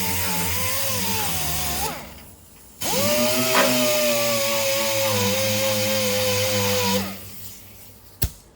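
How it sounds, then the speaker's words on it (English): A small mini DA sander touches up a missed spot on a fabricated brake master cylinder bracket in a workshop, running with a steady high whine in two bursts separated by a short pause, then ending with a sharp click. "Go ahead and give this thing a little bit more sanding."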